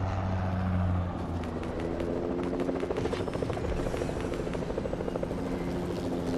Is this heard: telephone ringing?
no